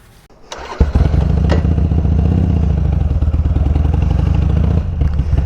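A 2009 Harley Sportster motorcycle cranks and fires up close by, then settles into a loud, lumpy, rhythmic idle.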